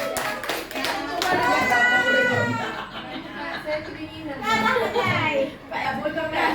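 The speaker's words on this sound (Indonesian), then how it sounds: "Oke, tepuk tangan untuk kita semua." Clapping from a classroom group of teachers or students, fairly close, rising in bursts between stretches of talking and children's voices.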